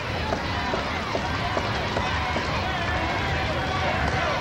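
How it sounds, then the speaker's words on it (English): An arena crowd at a women's professional wrestling show roars with a constant dense wash of noise while commentators talk over it. "Crowd getting behind him."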